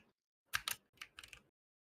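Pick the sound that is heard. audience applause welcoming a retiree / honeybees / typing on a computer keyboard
typing on a computer keyboard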